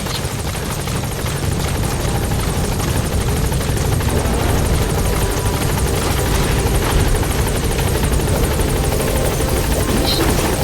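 A support helicopter in the video game Metal Gear Solid 5 drones continuously up close, its rotor chop and turbine buzz loud and steady for the whole stretch without pause.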